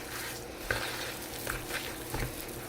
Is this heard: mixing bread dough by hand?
yes